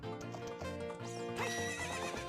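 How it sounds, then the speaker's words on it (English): A horse whinnies in Ocarina of Time, a loud shrill neigh with rising and falling pitch, brief and close, with hoof clip-clops beneath. "we can go ahead and play around with this horse here that Ingo picked out"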